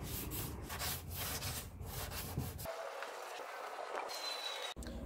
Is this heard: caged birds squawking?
no